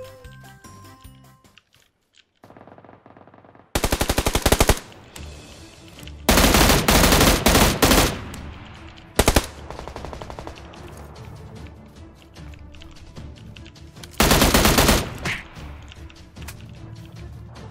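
Bursts of rapid automatic gunfire from the online shooter game PUBG Lite, in several loud sustained volleys separated by quieter stretches of game sound.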